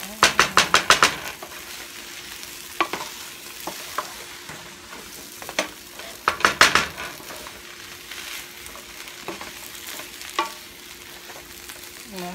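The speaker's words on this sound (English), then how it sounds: "now I'm gonna give this some good stir" A spoon stirs smothered potatoes with sausage in a pot, making repeated scraping and clattering strokes in quick bursts that thin out into occasional knocks, while a low sizzle runs underneath.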